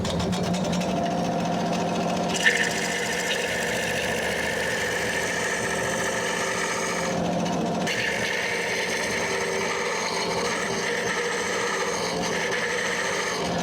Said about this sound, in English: you can hear this carbide insert. It's cutting pretty smoothly